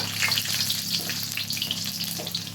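Sliced garlic and shallots sizzling in hot oil, a steady close crackling fry with no voices.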